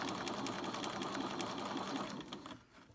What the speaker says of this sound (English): You're doing that centimetre seam.